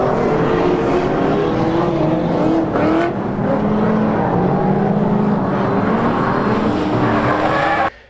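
A drift car slides around a track, its engine roaring loud and steady with sustained tire noise throughout, cutting off abruptly near the end.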